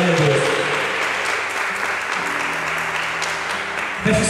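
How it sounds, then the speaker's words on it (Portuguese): A church congregation applauds steadily in praise during a worship service, a dense wash of clapping filling the room with a voice speaking briefly near the end. "Aplauda o Senhor por essa passagem."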